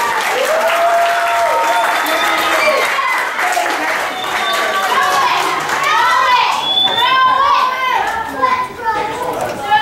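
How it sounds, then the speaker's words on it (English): Children at a vacation Bible school break into loud applause mixed with excited shouts and squeals, with young voices chattering throughout and the clapping staying dense to the end. "Give Princess a big round of applause."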